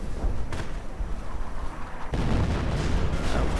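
Artillery fire in a World War II real-time strategy game with a Hummel self-propelled gun, a dense barrage of deep booms and blasts that runs without pause and grows louder and heavier partway through, heard alone with no talk.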